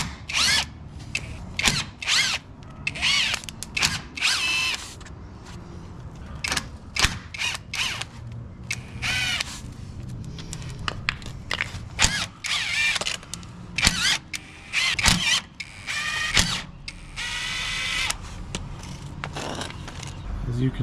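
Impact wrench or power drill unbolting broken parts from a race car after a short-course test day, buzzing in repeated bursts with clanks and someone talking between them.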